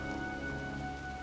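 Steady rain falls on surfaces just before a storm in the video game Heavy Rain, a dense, even hiss of drops running loud and unbroken throughout, with no voices.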